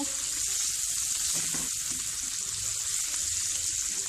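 Onions frying in a pan over medium flame, a constant bright sizzle with a spoon stirring and scraping now and then, close and steady throughout.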